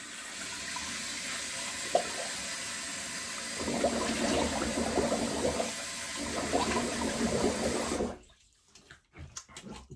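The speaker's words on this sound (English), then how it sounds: "Finish off with a little bit of cold water." Cold tap water runs steadily into a sink in a bathroom shaving session, a constant rushing hiss that swells midway and then cuts off abruptly near the end.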